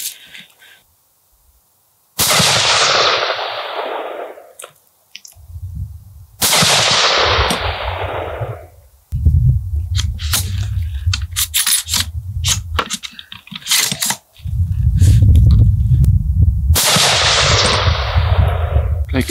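A 6.5 Creedmoor rifle fires Federal Terminal Ascent 175-grain rounds, each loud, close blast ringing out into a long decaying tail. Heavy low rumbling handling noise fills the gaps between shots.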